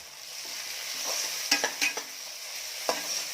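Tomatoes frying with browned onion in a pan for Kolhapuri mutton rassa give a soft, continuous sizzle broken by a few scraping stirs of a spoon, close and without talk.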